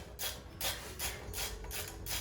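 Brake caliper pin caps on a BMW E92 335i are popped off, a series of five short, quiet scraping clicks with a rough, rasping texture, spaced roughly evenly apart.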